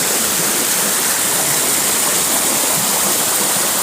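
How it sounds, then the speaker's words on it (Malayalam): Steady rushing water flows continuously, a loud, close stream with no voices over it. "താഴേക്ക് ഇങ്ങനെ വെള്ളം ഒഴുകുന്നുണ്ട്"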